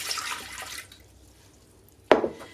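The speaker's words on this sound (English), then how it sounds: "we are going to use 1 1/8 cup of water, warm water, and we put it directly into our bread machine pan" Warm water splashes into a bread machine pan in a brief pour at the start, followed by a quiet pause and then a sharp, close splash or clunk near the end.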